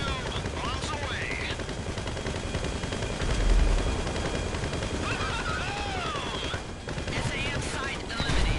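Bombs dropped from an aircraft turret in GTA Online during a Diamond Casino heist, a steady roar of aircraft noise and rattling gunfire with dull booms under it, loud and continuous throughout.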